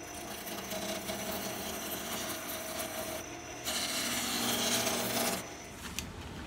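A roughing gouge rounds a mahogany sword handle on a wood lathe, giving a steady, faint scraping hiss that swells briefly louder partway through.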